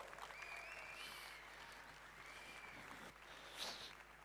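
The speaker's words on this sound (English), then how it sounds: "Give him a round of applause." Audience applause at a corporate broker event, a steady wash of clapping heard at a moderate distance with a few brighter bursts toward the end.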